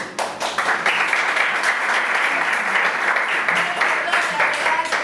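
Theater audience applauding after a post-show discussion of a stage play, a sustained, fairly loud round of clapping from a crowd that continues steadily for several seconds.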